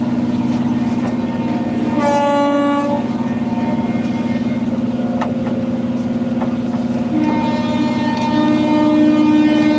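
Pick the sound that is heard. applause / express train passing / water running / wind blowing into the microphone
express train passing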